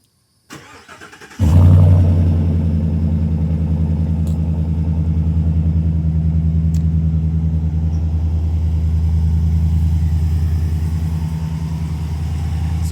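A pickup truck engine with an aftermarket exhaust cranks briefly and catches, then settles into a loud, steady rumbling idle with a deep exhaust note that continues to the end.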